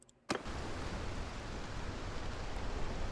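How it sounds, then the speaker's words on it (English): Heavy storm rain in Mount and Blade II: Bannerlord at sea, a dense, loud hiss that bursts in abruptly after a brief quiet moment and then holds steady. "Now we're in a storm, aren't we?"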